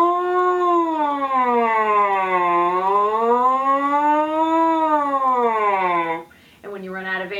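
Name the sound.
French horn mouthpiece buzz imitating siren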